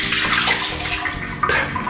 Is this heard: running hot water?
yes